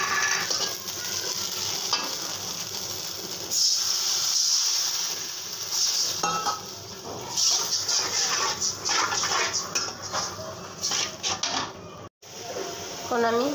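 Ground coriander, chili, turmeric, salt and bay leaves fry in a pan with a steady, close sizzle and hiss, broken by stirring scrapes, running alone for about thirteen seconds with one sharp cut near the end.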